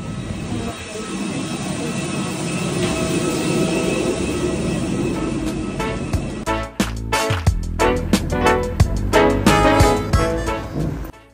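Steady loud jet engine roar heard from inside the cabin of an airliner taxiing after landing at Ben Gurion Airport, Tel Aviv, giving way to rattling, clunking cabin noises toward the end.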